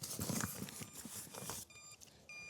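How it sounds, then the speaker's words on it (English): A fishing boat motor's remote emits two short electronic beeps, each a clear tone, after a stretch of broadband rushing noise on a DIY motorized fishing island. "It's the remote to the motor that's beeping at me."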